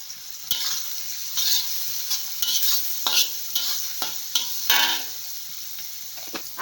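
Chopped tomatoes and turmeric frying in a pan for egg fried rice, a soft sizzle broken by repeated scraping stirs of a spoon against the pan, about a dozen strokes in uneven rhythm, with no voices.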